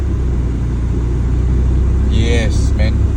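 A Mazda RX7 FC3S engine idles after a cold start: a steady, even low rumble with no surging, close and constant, with a brief voice near the end.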